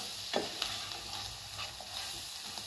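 A spoon stirs ground spice paste into potato pieces fried in oil. Soft scrapes and faint sizzling run under a steady low hiss, with a few light knocks near the start.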